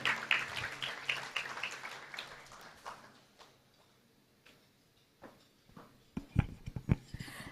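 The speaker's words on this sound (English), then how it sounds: "Let's give him another warm round of applause." Applause from an audience at a manufacturing awards gala dinner, clapping fairly loud at first then thinning out, with scattered claps rising again near the end in a large room.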